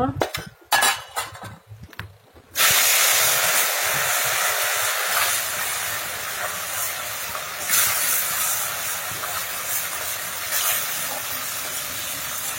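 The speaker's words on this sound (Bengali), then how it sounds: "কষাই মানে তেলের উপর দিয়ে এপাট ওপাট করে ভেজে নেব আমি" Steady loud sizzling hiss of fish coated in turmeric and salt frying in oil, after a few seconds of utensil clatter, continuing evenly without speech.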